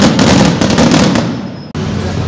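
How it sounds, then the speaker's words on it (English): Fireworks burst out in a street in Iztapalapa, Mexico City, a loud close crackling volley of rapid pops that thins and then cuts off abruptly before a fresh burst of noise. "Oh, fireworks."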